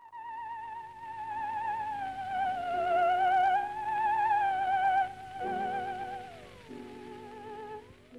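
A smooth, wavering electronic tone slides and swoops in pitch with vibrato, playing a slow melody alone, steady in volume throughout.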